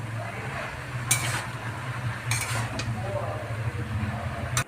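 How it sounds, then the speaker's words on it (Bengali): A spoon stirring bottle gourd curry in a pan, with a few sharp metallic scrapes and clinks against the pan over a low steady hum and soft sizzle, with no talking. "এবার একটু নেড়ে চেড়ে ঢেকে রেখে দেবো।"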